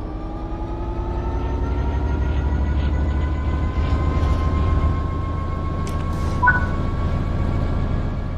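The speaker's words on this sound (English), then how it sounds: "Apply some throttle to get the train moving." A train in the Train Sim World 3 video game starts moving under throttle, with a steady low engine drone and faint rising tones, alone and without talking.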